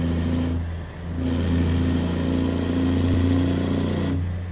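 A heavy Cummins NTC Big Cam diesel truck engine in American Truck Simulator runs steadily with a deep, droning low rumble and a steady mid-range hum, dipping briefly near the start before holding even, close and loud with no talking.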